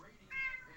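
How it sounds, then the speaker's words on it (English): A house cat in a room gives one short, fairly quiet meow, mid-pitched and slightly drawn out, over a soft background hum. "my kitty came in the room"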